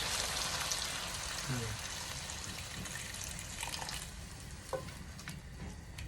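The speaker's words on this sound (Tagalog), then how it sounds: "Now I will add the water" Beef and bitter gourd frying in a pan give off a steady sizzle and bubbling hiss as water is added, with a few clinks and stirring sounds and a person talking faintly.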